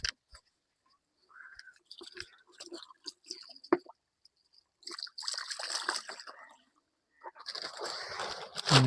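Water runs and splashes into a plastic silkworm-rearing tray as it is filled for washing, coming in close, intermittent bursts of trickling and splattering with short quiet gaps between them.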